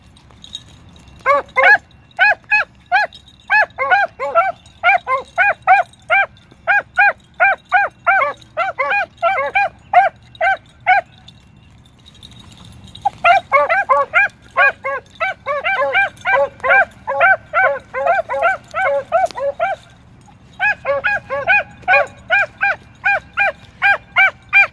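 Dogs bark repeatedly outdoors by a truck, short sharp yips in rapid rhythmic bursts at mid distance, with two brief pauses between volleys and faint background hum.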